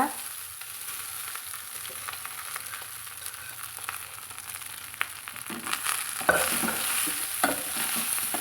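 Jeera lemon rice being stirred in a pan, with a steady scraping and shuffling that turns louder and more vigorous after a few seconds over a faint sizzle, and no voices.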